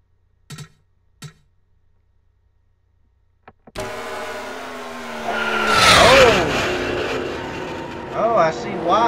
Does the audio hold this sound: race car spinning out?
yes